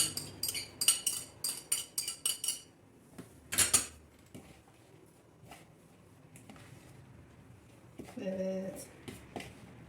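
Parsley being stirred into börek filling, heard as a run of quick metallic clinks and scrapes of a utensil against a bowl that soon grow quieter, with a short, louder rattle late on.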